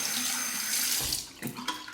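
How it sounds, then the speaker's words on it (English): Running tap water rinses a Parker 97R safety razor, a steady close gush that breaks up into splashing and dripping as the razor moves through the stream. "let's rinse the razor"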